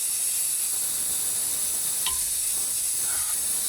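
A vacuum brake bleeder runs on a truck's brake system, drawing out fluid with a steady, even hiss that holds at moderate loudness from start to finish.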